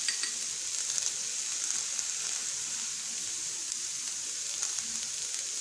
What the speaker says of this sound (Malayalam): വെളുത്തുള്ളി, പച്ചമുളക് നമുക്ക് എല്ലാം കൂടി ഒരുമിച്ചിട്ട് അങ്ങ് വഴറ്റാവേ.